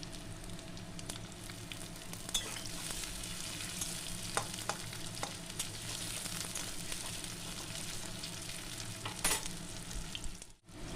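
Chopped onion frying together with lightly browned potatoes in a pan, a constant close sizzle broken by sharp stirring scrapes and taps, ending with a brief dip in sound.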